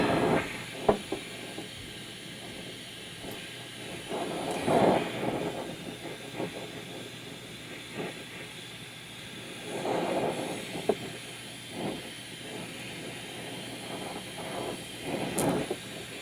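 A torch hisses and roars steadily while brazing a pipe joint, with CO2 gas flowing through the pipe; the broad, rushing flame noise swells and fades slightly throughout, with no talking.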